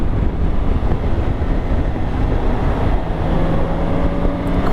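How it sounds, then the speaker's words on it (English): Steady, loud wind roar buffets a rider's helmet at speed on a 2023 BMW K1600 GTL touring motorcycle, with a low engine drone beneath and no talking. "the wind's hitting my helmet and I can hear it"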